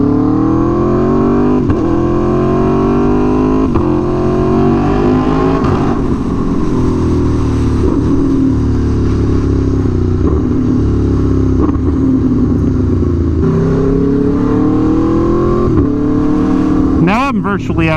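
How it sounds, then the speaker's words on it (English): Aprilia Tuono V4 1100 Factory with an SC Project exhaust in a driving video game, cruising along a virtual Pacific Coast Highway; a steady loud engine drone rises and falls through gear shifts while someone talks over it throughout. "listen to the sweet sound of the V4"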